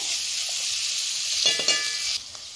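Sprouts curry frying in a pan gives a steady, close, hissing sizzle that holds evenly, with a brief stir in the middle, then drops noticeably quieter near the end.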